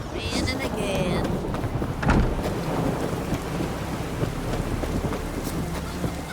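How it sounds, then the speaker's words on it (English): Steady rain hisses through a stormy scene in The Witcher 3 video game, with a close thunder crack and rumble about two seconds in and faint rolling thunder beneath the downpour. "Raining again."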